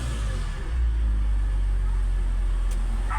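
The engine of a 2004 BMW X3, recently repaired after a low-power misfire, hums with a steady deep rumble at close range and no noticeable rise or stumble.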